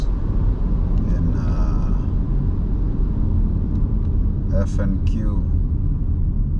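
A car drives through a tropical rainforest on a forest road, giving a steady, loud low rumble throughout with a few brief higher tones near the end.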